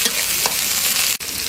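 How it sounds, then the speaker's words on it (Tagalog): Pork lung sautéing in a pan for kilawin hisses with a continuous close sizzle, with brief stirring scrapes and a short break near the end. "Gigisa ko na po yung baga para dito sa kilawin."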